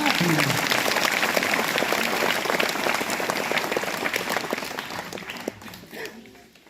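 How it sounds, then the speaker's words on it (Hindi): An audience at a school welcome for the Indian women's under-17 team captain claps steadily and loudly, the dense applause gradually thinning toward the end. "हम लोग ताली बजाएंगे यार"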